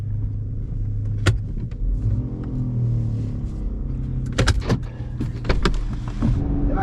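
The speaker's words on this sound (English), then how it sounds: "Hey, my car doesn't sound right." A Chevy with 114,000 miles idles roughly with a suspected exhaust fault, a low uneven rumble up close, punctuated by sharp clicks and knocks toward the end.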